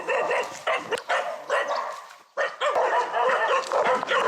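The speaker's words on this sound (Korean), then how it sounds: "무리지어서 다녀서 저렇게 짖으면 좀 힘듭니다." Pack of stray dogs barking in loud, repeated bursts close by, overlapping barks and yips with a brief pause midway.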